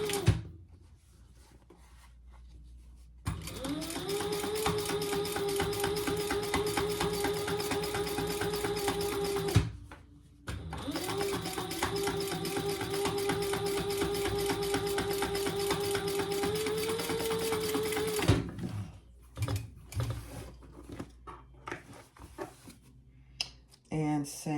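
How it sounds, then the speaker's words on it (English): A sewing machine top stitches the seam of a clutch wallet in two long, steady runs of rapid mechanical stitching, close and clear, separated by a brief pause. "with that seam going to the outside, we're going to just top stitch it 1/8 of an inch"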